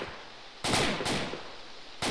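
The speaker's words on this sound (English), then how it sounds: "I'm bogged down by a machine gunner." Machine gun fire in the Arma tactical shooter, during a Shack Tactical mission in an Afghan village: two loud sustained bursts with a short gap between them, then a third burst starting right at the end.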